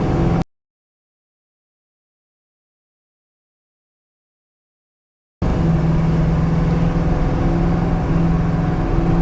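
The 440 Six Pack engine of a 1970 Plymouth Cuda with a radical cam runs close by, a loud, steady idle rumble that starts after a stretch of silence.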